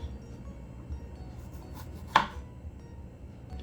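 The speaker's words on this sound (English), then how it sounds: "So you're gonna remove the top from the strawberries." A knife cuts the tops off fresh strawberries, making one sharp, close chop against a cutting board in an otherwise quiet kitchen.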